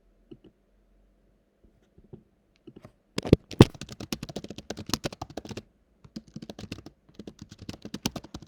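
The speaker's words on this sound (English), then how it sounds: "frantic tap typing sounds." Frantic typing on a computer keyboard, bursts of rapid close clicks and taps starting after a near-silent opening, loudest around the middle and continuing in uneven flurries.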